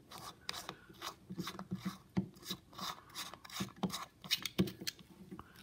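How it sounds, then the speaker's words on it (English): The threaded top cap of a red dot sight is unscrewed by hand, giving faint, close, rhythmic gritty scraping in short repeated twists with no speech. "to take this top part off and just unscrew it"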